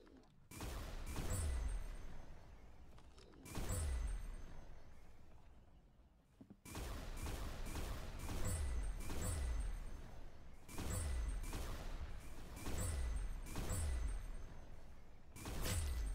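Railgun fire in a video game match on the Dust 2 map: repeated loud, sharp discharges with bright crackling tails in bursts every second or so, separated by short lulls, with faint background game noise.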